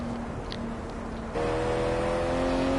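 Race car engine from the Project Cars video game at Laguna Seca: a steady droning whine that jumps to a higher, louder pitch partway through, heard alone without voices.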